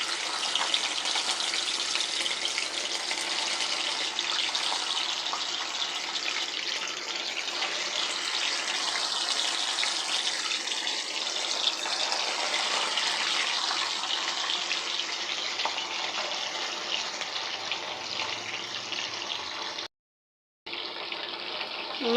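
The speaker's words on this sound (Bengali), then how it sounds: "এই যে মাছগুলো আমি ভেজে নিচ্ছি, হালকা করে ভাজে নিচ্ছি" Pieces of rui fish frying lightly in hot oil in a wok give a loud, steady sizzle that runs without pause, with only a brief dropout near the end.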